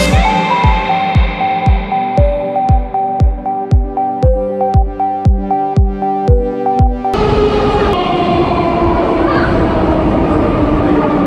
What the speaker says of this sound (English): Calcutta Metro is the first underground metro in the country.